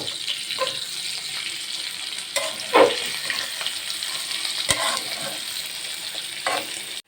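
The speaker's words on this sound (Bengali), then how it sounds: "যেহেতু এটা চাপিলা মাছ, তাই কাটা বেশি আর নরমও, তাই একটু হালকা ভেজে নেব।" Chapila fish sizzling steadily in hot oil in a pan, a continuous close fry with a few louder clatters and bursts as the pieces are turned over.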